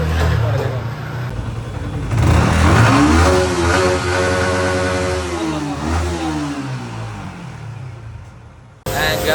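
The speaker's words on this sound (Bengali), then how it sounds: "বাইক টেস্ট করা হয়ে গেছে, বাইক চালাইছে" A Yamaha R15M motorcycle on a test ride revs up through its gears, rising and falling in pitch. It is loud and near, and people talk nearby.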